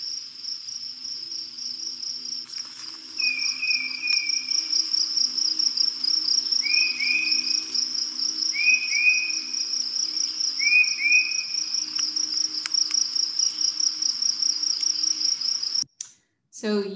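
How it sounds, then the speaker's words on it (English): Crickets trill steadily on a summer evening, a continuous high, even pulsing drone heard throughout a bird song recording, while a bird gives several short whistled notes over it. "see if you can ignore the crickets. It sounded like July in this recording."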